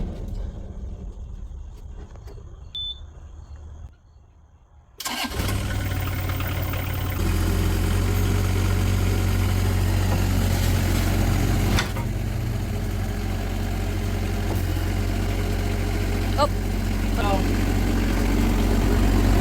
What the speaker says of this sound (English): I'm going to start up the machine.